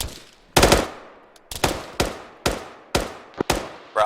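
Machine gun fire in the game Arma 3 during a squad assault: about six sharp, loud bursts arrive at uneven intervals, each ringing out briefly before the next, with no voices over them.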